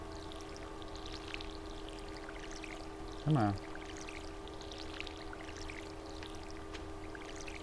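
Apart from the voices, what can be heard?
watering crops with watering can in Stardew Valley video game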